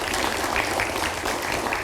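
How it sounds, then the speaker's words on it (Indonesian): Audience clapping fills a studio during a televised special programme, a steady, dense wash of many hands at moderate loudness with no talk over it. "Boleh kita berikan tepuk tangan terlebih dahulu."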